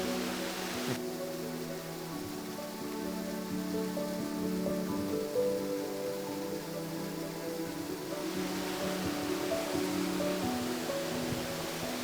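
Steady rushing water from a waterfall at Baş Daşağıl fills the scene with a continuous, even roar, fairly close and unbroken, with no one speaking.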